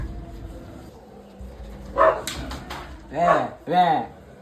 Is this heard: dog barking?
yes